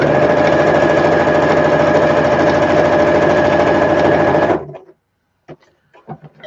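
A sewing machine stitches with a loud, close, steady rapid hum and chatter for about four seconds, then stops abruptly, leaving a few faint knocks and handling sounds in near quiet.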